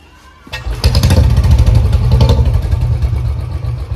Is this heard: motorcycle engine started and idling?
yes